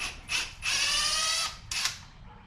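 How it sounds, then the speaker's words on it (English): A hand ratchet turning a 10 millimeter socket, in a garage on a Ford Courier, gives quick bursts of close, bright clicking with short pauses between strokes. "I happen to have a 10 millimeter socket"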